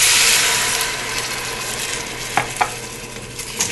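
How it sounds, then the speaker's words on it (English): Spoon stirring white wine into a saffron and clam risotto in a hot pan, a steady close sizzle with soft scraping strokes and a couple of light knocks near the end. "And you're going to stir this until it's absorbed."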